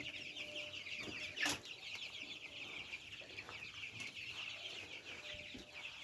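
Nineteen-day-old chicks peep and cluck continuously in a close, busy chorus, with a brief louder flutter or knock near the start.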